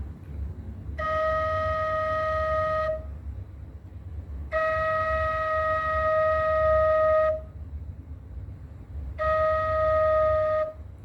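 A breathy wooden Thai khlui flute sounds the note fa three times, each held a couple of seconds with short pauses between.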